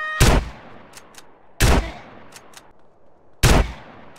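Gunfire in GTA San Andreas: three loud, sharp shots spaced about 1.5 seconds apart, each with a short decaying tail, with faint clicks between them.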